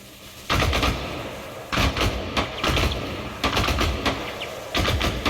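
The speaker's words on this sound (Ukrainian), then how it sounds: "приди на звуки выстрела пулемета" Machine gun fire in the video game ARMA Reforger: several loud bursts of rapid shots crack out one after another, separated by brief pauses.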